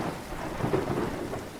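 Steady rain pours down with a deep rumble of thunder rolling underneath, a dense continuous wash of sound with no voices.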